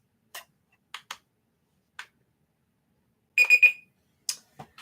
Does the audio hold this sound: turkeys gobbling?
no